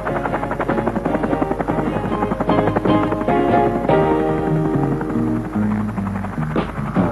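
A helicopter supplying mountain camps at a mining site drones steadily throughout, its rotor hum and engine whine loud and close with a constant, rumbling texture.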